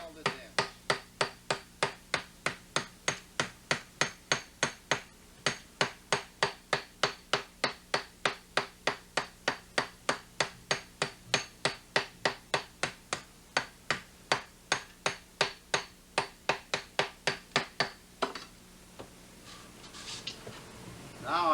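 Steady, rapid taps from the side of a hammer knocking dents out of a thin metal beer can, dozens of evenly spaced strikes in a brisk rhythm, close by, stopping briefly before a final clatter.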